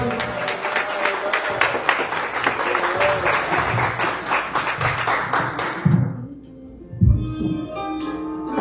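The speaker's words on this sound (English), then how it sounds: "let's give the Lord a clap of praise" Church congregation clapping in praise during a worship service, sharp rhythmic claps over a murmur of voices, then the clapping stops abruptly and a few isolated sounds and a voice follow.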